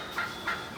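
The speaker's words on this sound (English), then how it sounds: "I got toms all around me, but I had this big gobble." Wild turkey toms roosting in trees at dawn give a couple of short, faint gobbles at a distance in a quiet morning.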